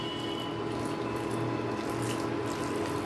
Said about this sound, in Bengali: এখন আমি এর মধ্যে কিছুটা পরিমাণ গরম জল অ্যাড করে দেব, যাতে সাবুদানাটা খুব ভালো করে সেদ্ধ হয়ে যায়।